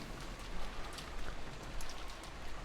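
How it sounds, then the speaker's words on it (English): Heavy downpour of rain in the visual novel game Umineko, a steady, dense hiss of falling water with soft spatters, heard alone and fairly faint throughout. "But the sound of the downpouring rain kept turning their attention toward the mystery guest."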